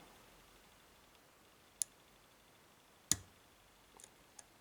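Tesa T10 dimple lock with ten pins being picked, a few sharp, tiny pin clicks spaced apart in a quiet room, one louder than the rest, followed by fainter ticks.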